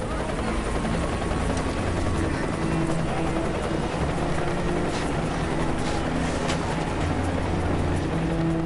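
A rescue helicopter hovering over an icy river drones loudly and steadily throughout, its rotor hum constant and close, with a voice speaking over the engine noise.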